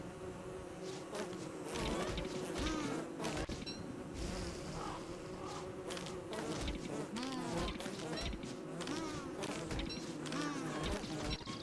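Bees buzzing in the video game Don't Starve Together, a steady insect drone running through the whole stretch alongside layered game sounds and effects.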